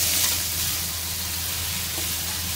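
Onions and chopped tomatoes frying in hot oil for a Bengali rui fish curry, a steady, close, dense sizzle with no voices.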